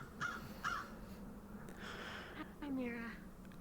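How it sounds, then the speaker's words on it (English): Crow caws ring out a few times at moderate distance, harsh and separated by pauses, under quiet conversation. "There's a bird there."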